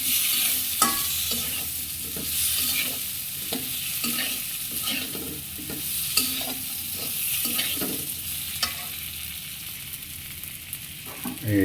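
Potatoes and egg frying in a wok are stirred with a spatula, giving repeated scraping strokes over a continuous close sizzle, no voices heard.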